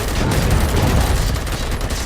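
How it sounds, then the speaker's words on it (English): Dense burst of gunfire from the RoboCop Rogue City video game, a loud continuous fusillade of overlapping shots lasting about two seconds with no talking. "Gunshots?"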